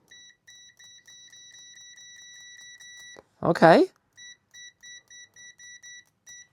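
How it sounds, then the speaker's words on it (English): Steady high-pitched continuity beep from an AstroAI DT132A multimeter, first held continuously for about three seconds, then repeating as a series of short, regular beeps; a voice briefly speaks between the two parts. "Continuous beep"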